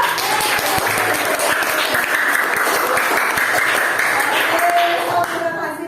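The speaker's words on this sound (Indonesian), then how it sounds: "boleh kita tepuk tangan untuk apresiasi diri ya" Classroom applause from a group of students, steady dense clapping that fills the whole stretch at close range and fades slightly at the end, with a teacher's voice talking over it.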